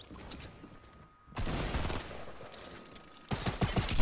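Gunfire in a video game, heard as dense rattling bursts that start abruptly after a quieter, hissing stretch and come back louder near the end, with no talking.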